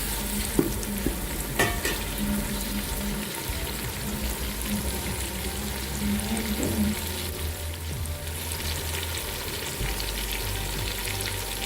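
Potato and eggplant sabzi frying in a pan, a continuous hiss of sizzling oil with occasional scraping and stirring clatter of a spoon against the pan, close and steady with no talk.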